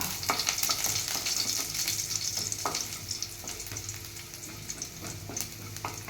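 Sliced garlic frying in hot oil for South Indian rasam, a continuous crackling sizzle broken by repeated scrapes and taps of a spoon stirring the pan, close and moderately loud.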